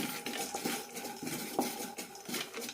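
Roasted gram and a teaspoon of pottukadala being stirred in a pan over medium flame, with a spoon scraping and clinking against the metal in irregular strokes, close and fairly soft.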